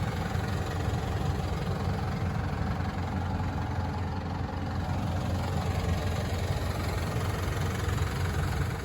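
A 4x4 diesel engine idles steadily nearby, a constant low, throbbing rumble with a faint knocking texture and no change in pace throughout.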